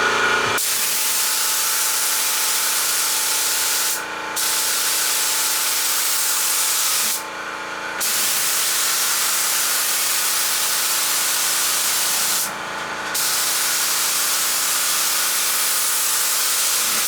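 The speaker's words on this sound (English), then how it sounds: "he was spraying a 3rd coat" A spray gun hisses loudly and steadily as it lays paint coats onto a Toyota Cressida in a home garage, with three brief pauses between long passes.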